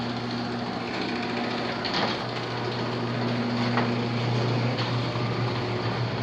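A steady mechanical hum with a low motor drone and faint rattling from a 1980s overhead garage door opener lifting a metal panel door, running continuously and fairly quietly with no talking.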